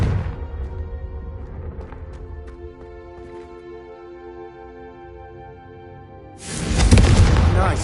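A Confringo fire spell is cast in a Harry Potter video game, ending in a loud, dense whooshing blast that swells suddenly near the end after a quieter tonal musical stretch.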